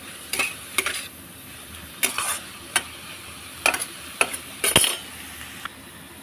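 Spices with salt, turmeric and dried chili powder being fried for a Bengali prawn dish, heard as a soft background sizzle broken by sharp, irregular spatula clinks and scrapes against the pan, close and fairly loud, with no talking.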